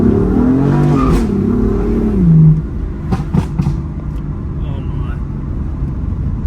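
A 2015 BMW M4 F82 revs hard and close for a couple of seconds, then backs off into a scatter of sharp exhaust pops and bangs over a lingering low engine rumble.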